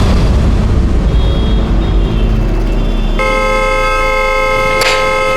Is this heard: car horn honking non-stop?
yes